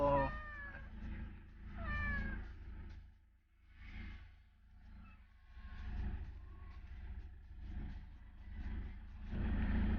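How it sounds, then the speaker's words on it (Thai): A cat meows repeatedly inside a moving car on the way to the vet, with loud, drawn-out cries in bursts over a steady low vehicle rumble. "กำลังนั่งรถ แล้วก็จะพาน้องแมวไปหาหมอครับ"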